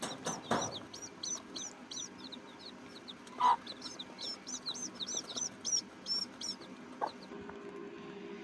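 Country hens and their chicks cluck and peep softly while drinking water in a grove, with a rapid series of high chick chirps over occasional lower hen clucks and a few brief knocks, fairly close and alone.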